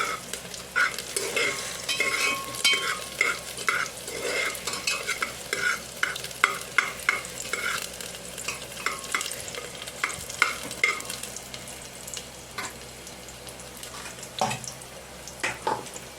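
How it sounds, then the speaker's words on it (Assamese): Onions sizzle and crackle in a hot pan while a utensil stirs them repeatedly, scraping and clattering in an uneven rhythm. "পিঁয়াজখিনি প্ৰথমে ভাজি লৈছোঁ।"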